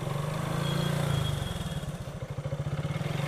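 A motorcycle engine idles and revs nearby, its low chugging pulse becoming rhythmic and throbbing, with mechanical clatter and no voices.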